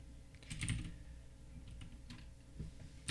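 Quiet typing on a computer keyboard, a few soft irregular key clicks in a short burst followed by scattered taps, close but faint with no talk.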